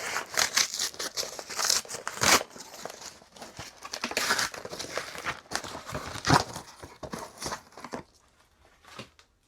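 A small cardboard mailing envelope is torn and pulled open up close, giving dense crinkling, ripping and rustling bursts for about eight seconds before the sound drops to a few faint handling noises.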